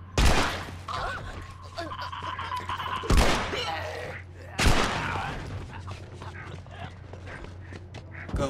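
Sharp gunshots ring out in The Last of Us, with three loud, close blasts spaced a couple of seconds apart over a steady low hum and ambient game sounds, with some voice in the mix.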